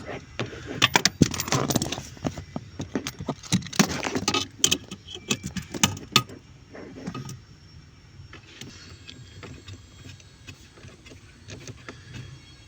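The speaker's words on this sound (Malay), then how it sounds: "kita ngetat ke skru baru tuh" Screws tightened on a car air-conditioning servo motor: a dense run of sharp metallic clicks and rattles for several seconds, then quieter scattered handling noise, close up with no talk.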